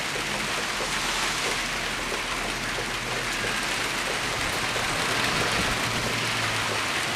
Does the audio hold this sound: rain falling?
yes